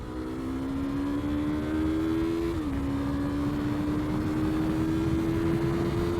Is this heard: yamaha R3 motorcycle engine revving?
yes